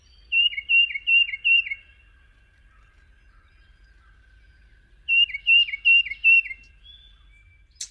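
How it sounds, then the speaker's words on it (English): A tufted titmouse sings its clear whistled song from a playback recording: two bursts of four or five rapid, repeated two-note phrases separated by a quiet pause, with no talking. "So here's the song of a tufted titmouse."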